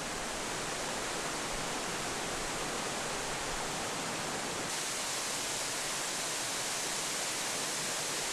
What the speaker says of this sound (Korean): 군지계곡의 또 다른 비경, 비산폭포가 숨겨놓은 속살을 드러낸다